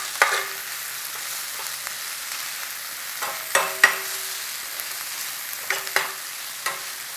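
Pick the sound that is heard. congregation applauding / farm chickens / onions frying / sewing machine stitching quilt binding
onions frying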